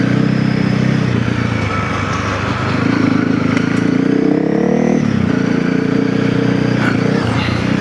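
Honda CRF300L motorcycle on a long dirt trail, with a cam upgrade, its engine droning steadily up close, swelling and easing as the throttle changes, with a brief dip near the middle.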